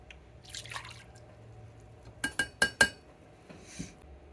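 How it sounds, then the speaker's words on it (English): Oil glugs out of a strangely opened bottle in a home kitchen during slow-cooker sauce making: four quick, sharp glugs in a row midway, over a quiet room. "That someone opened very strangely, so it's gonna glug."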